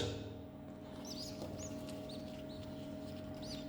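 Hungry newly hatched homing pigeon chicks give faint, high, repeated peeping chirps over a steady low mechanical hum, scattered irregularly with no voices.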